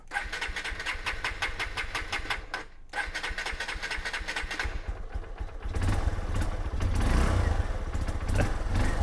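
A small Honda motorcycle engine starts and runs on half choke, first with a rapid mechanical chatter, then settling into a louder, rougher running note that revs up toward the end.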